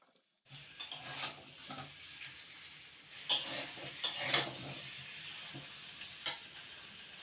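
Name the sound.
potatoes frying in a pan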